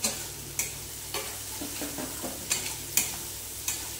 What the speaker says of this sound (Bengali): এবার নাড়তে নাড়তে পুরো ভেজে ফেলবে।